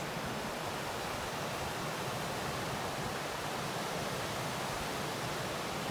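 Furnace Falls, a waterfall, gives a steady, even rush of falling water heard from some distance, soft and unbroken like broadband noise, with no voices over it.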